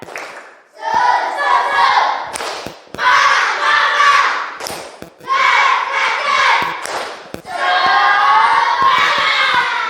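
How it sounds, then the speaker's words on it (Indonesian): Schoolchildren in a classroom chant a spirited clapping cheer together, loud group voices in bursts with sharp hand claps between the phrases. "Tepuk semangat."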